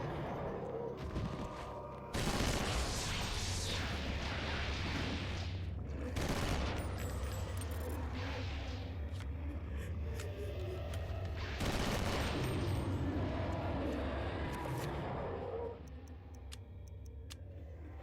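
Rapid bursts of gunfire in the video game Eternal Darkness, several loud volleys separated by short gaps with ticking between them, over a low steady background rumble.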